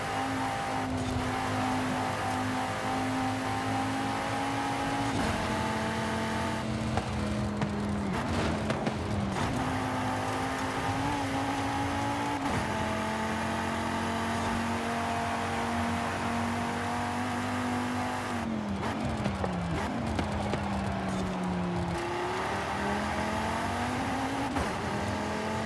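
An Audi RS3 sedan in Forza Horizon 5 drives with a steady, loud engine drone, rising and falling through gear changes and revs over the whole stretch.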